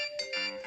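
A phone ringtone chimes out loud and clear in bright sustained tones, a short melodic phrase heard during a Roblox parkour run with no talking over it.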